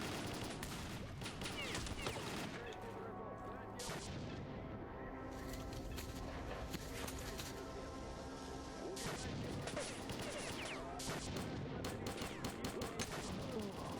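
Gunfire erupts during an ambush in the video game S.T.A.L.K.E.R.: Call of Pripyat, dense overlapping shots and bursts crackling continuously over a rumbling background for the whole stretch.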